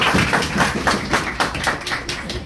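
An audience at a debate competition claps loudly for the participants, a dense, steady wash of applause with rhythmic swells throughout, close and full.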